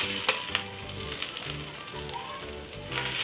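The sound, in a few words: onions frying in a pan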